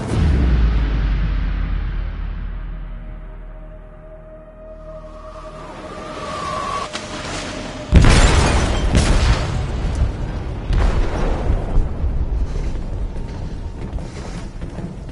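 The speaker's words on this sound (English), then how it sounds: "They detonated an explosive in the hold." A heavy explosive blast booms inside a ship's hold in Detroit Become Human, a loud sudden detonation landing partway through after a low rumbling lead-in, followed by sustained crashing, roaring debris noise with no talk.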